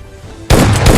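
In a video game firefight, a single loud, sudden gunshot or RPG blast bursts out, close and harsh, ringing briefly after a quiet lead-in.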